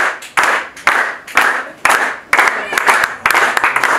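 Church congregation clapping to welcome a pastor, with bursts of close applause that come in waves and swell and fade several times, along with a bit of speech.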